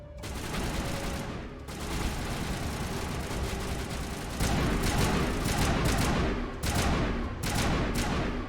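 Enemy gunfire in the video game Mass Effect on Insanity difficulty, steady dense bursts of shots layered over a constant rumbling game background, rising in intensity with brief pauses between volleys.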